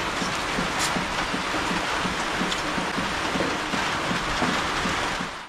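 Steady rain pattering on a surface, dense and continuous, with a faint rhythmic rumble underneath; no voices.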